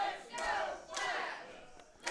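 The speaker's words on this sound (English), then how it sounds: "Crowd trying to rally behind Flash Flanagan." A wrestling crowd in an arena shouts and cheers in rising waves, with bursts of yelling that swell and fade over a couple of seconds, heard from somewhat far off.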